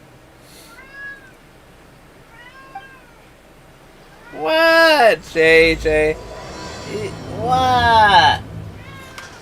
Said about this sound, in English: I'm sure y'all can hear his little meows